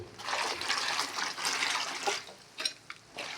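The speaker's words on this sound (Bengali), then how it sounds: "এই যে কচুগুলি কেটে নিলাম এখন ধুয়ে নিচ্ছি ভালোভাবে" Cut taro root being washed by hand in water, a steady sloshing and splashing for a couple of seconds, then a few separate splashes and drips close by.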